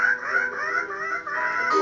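A continuous, nasal, honking bird call from the video game Trollface Quest 2, like a cartoonish duck quacking steadily for nearly two seconds, loud and close with no pauses.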